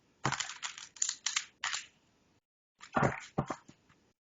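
Two quick bursts of crisp, fluttering card riffles, close and fairly quiet, separated by a short pause.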